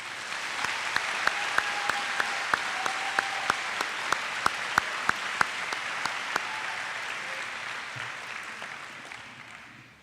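At an upper school awards ceremony, an audience applauds the students just named. Steady, moderately loud clapping runs throughout, punctuated by crisp, regular nearby claps, and thins out toward the end.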